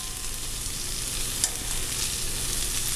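Chicken tenderloin chunks frying in a pan, a steady close sizzle with a faint utensil tap partway through and no talking.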